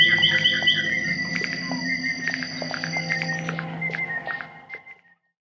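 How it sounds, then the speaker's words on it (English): Wren song slowed down to a lower pitch, a run of rapid warbling notes and trills in quick succession that thins out and stops, clear and close with no voices. "Every time that the wren fires off its song, it begins with that very high B."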